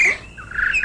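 A single bird chirps and tweets close by, a bright call with a short pause and then a longer rising warble, heard alone without any voices.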